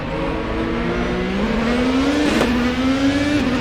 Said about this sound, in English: And back onto the track with a classic IndyCar style burnout